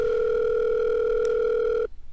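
A telephone dial tone after the handset is picked up, steady and loud, holding for almost two seconds before cutting off abruptly into near silence.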